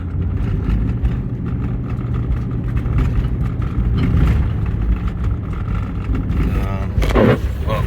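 A 2008 Nissan Armada SUV rolls over a rough, potholed road, its engine droning low under constant rumble and road noise, with occasional clunks and jolts from the suspension, close and steady throughout.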